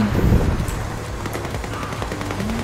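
Rapid gunfire from an RPK-74M machine gun in Battlefield 4, a dense run of sharp, close shots through the first half that thins into scattered reports and game noise.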